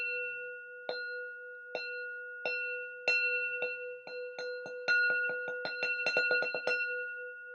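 A meditation bell struck with a mallet during Heart Sutra practice rings clear and sustained, its strikes spaced evenly at first, then coming faster and faster into a dense flurry of ringing tones.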